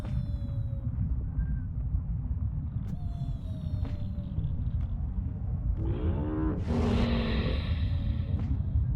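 A giant rolling cylinder rumbles up from behind the player in The Eternal Cylinder, a deep, steady low roar that runs the whole time under creature calls and game effects, swelling louder near the end.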